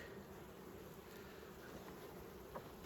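Steady, dense buzzing of a honeybee swarm, a continuous droning hum that stays even throughout with no voices.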